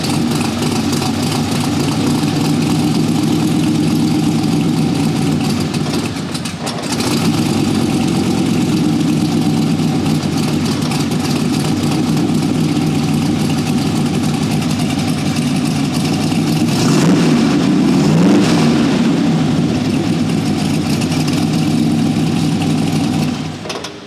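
A fuel-injected 1982 Corvette with side pipes idles with a loud, steady, deep rumble, briefly dipping and then swelling into a rev before settling back to its throaty idle.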